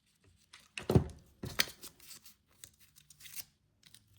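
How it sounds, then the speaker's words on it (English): Scissors snip through a strip of cardboard for a handmade Spinosaurus figure, two sharp close cuts followed by lighter rustling and small paper handling noises, with no voices. "Cut a strip."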